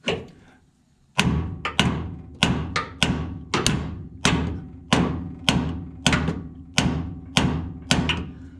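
Repeated heavy metallic hammer blows ring out at a steady pace, about a dozen strikes on the steering linkage under a Ram 1500 in a cramped space, each sharp and close with a short ringing decay.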